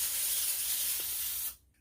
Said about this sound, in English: I'm going to spray the parchment paper as well